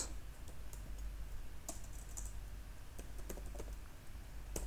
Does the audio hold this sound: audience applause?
no